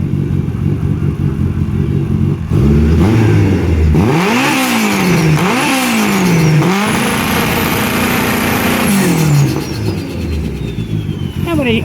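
A Mini Cooper with a swapped Honda K-series engine revs hard and is held bouncing on its rev limiter at 8,500 RPM, loud and close, with rising and falling revs before the steady limiter stutter.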